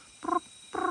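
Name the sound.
flying frogs calling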